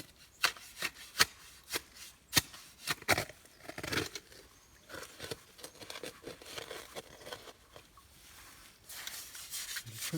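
Shovelfuls of soft bedrock gravel are tipped into a gold pan, with sharp scraping crunches at first and then a looser rattling and rustling of stones, all close and fairly quiet.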